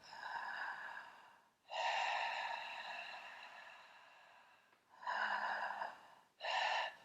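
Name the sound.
gentle breathing in through the mouth, throat breathing exercise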